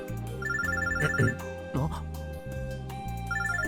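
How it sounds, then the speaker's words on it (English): A phone droid ringing in the Robotics;Notes visual novel game, a melodic electronic ringtone repeating in short bursts over background music, clear and close. "My phone droid begins to ring."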